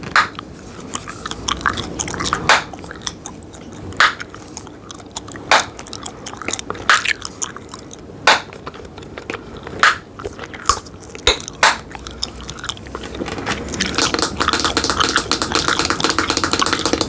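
Gum being chewed close to the mic in a quiet ASMR setting, a steady run of moist smacks and soft clicks with sharper crunchy taps scattered through, then a denser, busier patch of rustling chewing noise toward the end.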